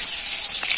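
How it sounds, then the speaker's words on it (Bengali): Pointed gourd (potol) frying in hot oil gives a steady, close sizzle and hiss that fills the whole moment, with a brief brighter spit near the end. "শুরু করে দিয়েছে পটল ভাজা"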